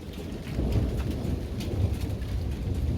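A thunderstorm with steady heavy rain and a low, rolling rumble of thunder that stays continuous and fairly loud throughout, with no voices.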